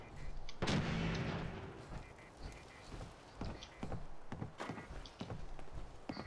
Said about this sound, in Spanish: No sé dónde están los que nos están disparando.